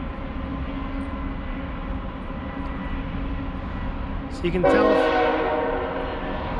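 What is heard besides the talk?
train passing on a trail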